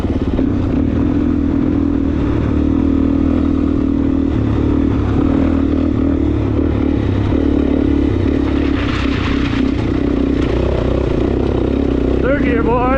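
A Suzuki DRZ400S dual-sport motorcycle ridden through the desert, its engine droning loud and steady close to the mic with wind rush. The revs climb near the end, and no clear talk cuts through.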